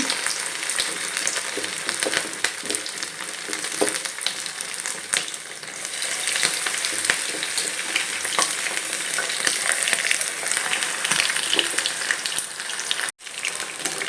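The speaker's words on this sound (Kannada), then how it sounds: "ಎಣ್ಣೆ ಕಾದಿದೆ ಈಗ ಇದಕ್ಕೆ ಒಂದೊಂದನ್ನೇ ಹಾಕ್ಕೊಳ್ಳೋಣ" Chicken pieces fry in hot oil with a dense, rain-like crackling sizzle that runs steadily for the whole stretch, with a brief dropout near the end.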